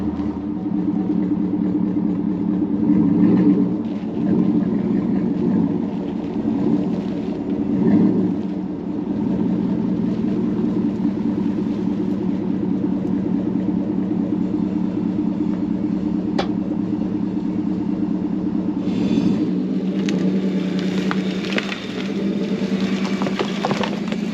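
A vehicle tows a Jeep CJ-7 Renegade hitched by a tow ball, giving a steady, loud engine rumble throughout with brief surges and a few knocks near the end.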